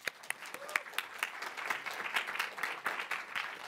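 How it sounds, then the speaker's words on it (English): Faint, moderate applause from a small audience at university videogame final presentations, with scattered distinct hand claps forming a steady patter. "can the audience give them a round of applause"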